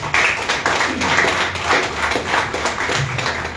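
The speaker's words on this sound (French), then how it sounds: "Je pense que le Père mérite plus d'applaudissements" An audience at a debate applauds, a run of brisk, fairly close hand claps that keeps going at an even strength throughout.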